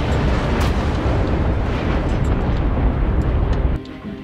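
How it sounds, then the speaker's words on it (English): A massive nuclear explosion from a superweapon in Just Cause 3's sky fortress DLC roars as a loud, sustained rumbling blast that cuts off abruptly near the end, leaving a quieter tail. "It can detonate nuclear explosions simply by facing the"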